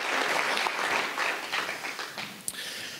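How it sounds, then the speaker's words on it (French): An audience at a general assembly breaks into steady applause, a dense wash of hand clapping filling the room, with a sharp single clap standing out near the end. "Vous pouvez les applaudir."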